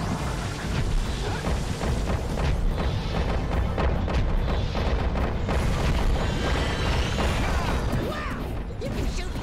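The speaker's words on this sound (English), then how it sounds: "You can shoot fireballs when you're powered up with yellow eco." Fireballs shot by a character powered up with yellow eco in the Jak & Daxter platform game, a dense loud barrage of booming bursts and crashes filling the whole stretch without a break.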